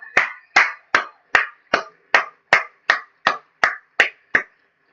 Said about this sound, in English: give myself a hand clap here